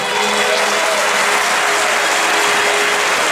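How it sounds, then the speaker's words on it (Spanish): A theatre audience at Teatro Galerías in Guadalajara applauds a comedy parody show, with dense, loud clapping that holds steady throughout. "Ese aplauso que sea para el original"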